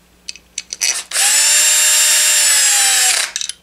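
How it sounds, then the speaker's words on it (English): A power driver threads screws into the crankcase of a STIHL HS-80/HS-81R hedge trimmer: a few short bursts, then one long steady whine lasting about two seconds, followed by brief trailing pulses, loud and close with no talk. "Now we'll thread in the screws that hold the crankcase together."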